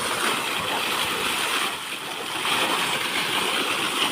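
Water rushing steadily from a pipe fed by a running well pump motor, a broad continuous hiss and splash with a slight dip in strength midway, heard close and alone.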